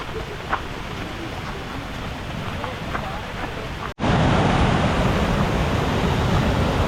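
Heavy monsoon rain and fast-flowing water on a trail near the source of Savatsada waterfall, a dense roaring wash that jumps louder after a brief dropout.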